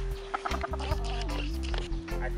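Chickens cluck in short, repeated bursts on a small hobby farm, close by, over a steady low hum.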